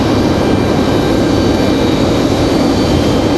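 A McDonnell Douglas MD-11 jet at Raleigh-Durham International Airport produces a loud, continuous broadband engine roar that stays steady and close throughout, with no talking over it.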